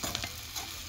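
Vegetables and tomatoes fry in hot oil on an organic stove while being stirred, giving a soft, steady sizzle with faint scraping stir sounds over a brief moment.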